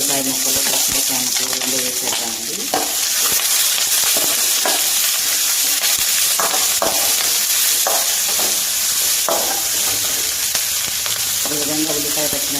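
Onions and green chillies frying in a pan for carrot rice, a steady loud sizzle with occasional spatula scrapes and stirring clinks throughout, no talk.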